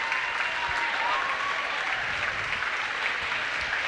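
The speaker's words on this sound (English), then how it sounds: "Jefferson showing the respect too by giving a round of applause" Round of applause from the crowd at a boys high school basketball game between Morristown and Jefferson, steady and even throughout, filling the gym with no voices standing out.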